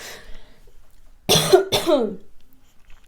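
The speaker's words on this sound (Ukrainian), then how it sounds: "Чомусь в кожному відео мені треба прокашлятись." Two quick, harsh throat-clearing coughs sound close to the mic, back to back, after a moment of faint background noise.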